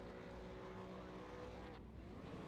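A race car engine in the iRacing sim, a V8 Supercar at Silverstone National, drones and revs steadily at low level with a dense buzzing tone and no speech.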